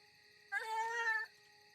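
A cat gives a single harsh, drawn-out meowing yowl lasting under a second, tonal and strained, rising out of near silence and cutting off abruptly.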